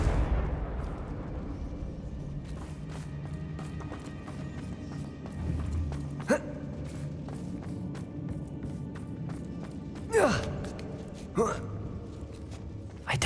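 A Confringo explosive spell blast in Hogwarts Legacy inside a closed mine, heard as a fairly quiet, sharp burst rising over a low background rumble, with another smaller crack shortly after.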